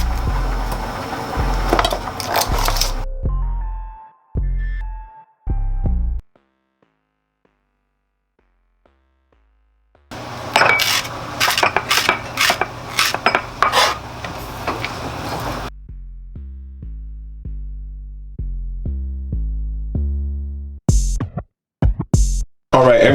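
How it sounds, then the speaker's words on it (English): Knife cutting a red onion on a cutting board during home cooking, with bursts of sharp repeated chops and taps separated by pauses and a stretch of silence, close and fairly loud. "Then from there you just want to cut the onion like so."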